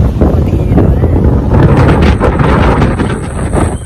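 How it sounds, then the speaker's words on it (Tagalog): Strong wind buffets the microphone in a constant loud roar, with a faint wash of surf underneath, at Kamogawa beach in Japan. "Medyo mahangin siya guys."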